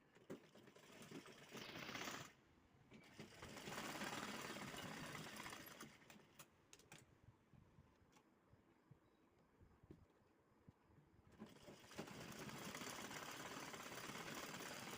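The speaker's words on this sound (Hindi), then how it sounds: "यहाँ पर हम सिलाई दे देंगे।" A sewing machine runs close and steady, stitching the shoulder seam of a blouse in fast, buzzing bursts with short pauses between them and no talk.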